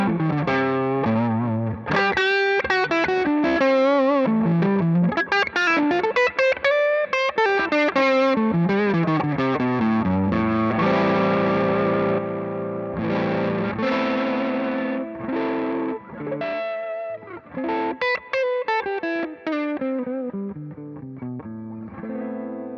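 An electric guitar through an overdrive pedal plays a lead line with sustained, singing notes and bends, fairly loud and alone.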